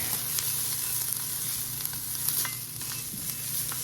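Onion searing in an Instant Pot air fryer on sear mode for pork carnitas, giving a steady close sizzle with soft scraping and stirring clicks, no talking.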